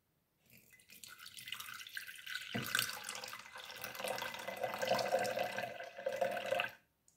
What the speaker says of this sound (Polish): Teraz trzeba zalać wodą